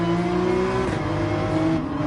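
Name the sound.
car at full throttle in video game Gran Turismo 7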